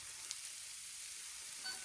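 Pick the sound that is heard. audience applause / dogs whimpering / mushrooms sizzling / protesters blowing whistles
mushrooms sizzling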